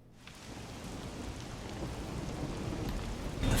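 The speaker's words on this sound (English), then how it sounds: "The faint sound of a ticking clock melts against the sound of rain." Rain ambience from a visual novel video game, a steady broadband hiss of falling rain that swells slightly louder toward the end, with no voices over it.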